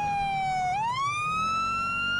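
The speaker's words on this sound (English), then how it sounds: "I found another Federal Signal smart siren" A Federal Signal Smart Siren on a police car in the video game LSPDFR wails steadily, its pitch sweeping down then rising again, loud and close with a faint engine rumble beneath.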